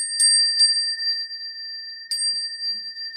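A Buddhist ritual bell rings three times with bright metallic strikes, the third after a pause, each leaving a sustained ringing tone that hangs on between strikes; no talking.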